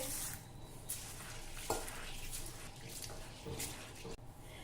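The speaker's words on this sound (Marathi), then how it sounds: "आता हे एक वाटी गहू आपल्याला पाण्याने स्वच्छ धुवून घ्यायचे आहे" A bowlful of wheat grains is rinsed and swished in water for a traditional wheat kheer, giving a steady wet sloshing with a few sharper clinks and splashes, close and moderately loud, with no talking.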